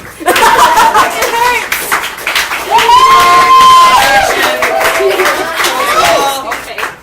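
A comedy club audience at a variety show claps and cheers, loud and sustained, with laughter and voices mixed into the noise for the whole stretch.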